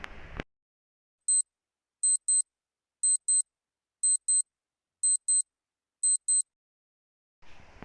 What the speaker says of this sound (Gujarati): તો મિત્રો આનો જવાબ છે ઘડિયાળ.